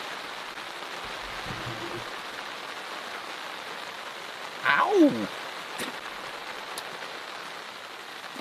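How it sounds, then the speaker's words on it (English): Steady rain falls in a state forest, a continuous even hiss of drops on surrounding surfaces, while a voice briefly cries out midway. "The rain sounds nice"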